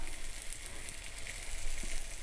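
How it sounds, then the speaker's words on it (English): Roasted Korean sweet potato (goguma) slices sizzle in butter in a pan, a steady close hiss and crackle of frying that continues without pause. "let that sizzle for about a minute to minute and a half, or until golden brown"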